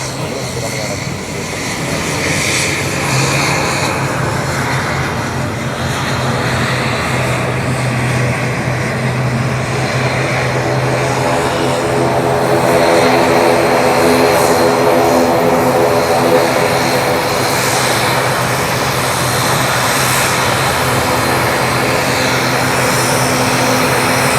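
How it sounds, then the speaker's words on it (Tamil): An IndiGo airliner passes overhead with a loud, steady engine roar that fills the whole stretch, swelling slightly midway and holding on as it goes by. "இண்டிகோ இப்போ தான் ஃப்ளை பண்ணுறாங்க வந்து வந்துருக்காங்க"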